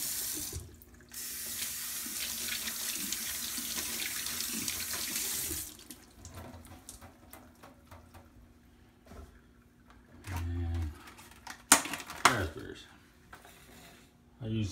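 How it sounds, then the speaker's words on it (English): Blackberries and raspberries are rinsed under a running kitchen tap, with a loud, steady gush of water for several seconds, then quieter handling and splashing sounds near the sink. "you want to wash your berries. I use a big handful of each:"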